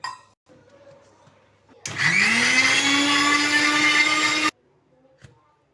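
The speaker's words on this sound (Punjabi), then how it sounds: "ਇਹ ਕੱਚਾ ਅੰਬ ਆਪਾਂ ਗ੍ਰਾਈਂਡ ਕਰ ਲਿਆ" A mixer grinder whirs loudly for about three seconds, pureeing hard raw mango with a little water, its motor pitch rising as it spins up and then holding steady before cutting off abruptly.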